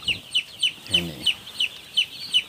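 Chickens clucking close by at a feeder, a steady run of about eight short, sharp calls at an even rhythm, with a brief low rumble partway through.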